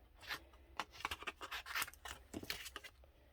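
Small Paper Studio scissors snip through paper in a quick series of soft, close crisp cuts, with light rustling between snips.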